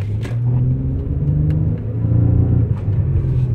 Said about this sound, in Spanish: Vean, a ver, le voy a acelerar.